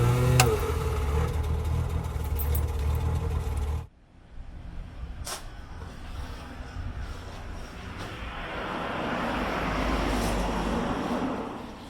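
A 1965 Riley Kestrel's engine runs with a steady, loud mechanical rumble, drops off abruptly partway through, then settles into a quieter idle that swells again near the end.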